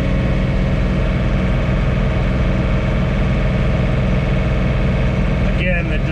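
A John Deere 3046R compact tractor carrying a front-mounted snowblower runs at about 2600 RPM, giving a loud, steady, close engine drone with a throbbing low rumble and a brief mechanical whine near the end.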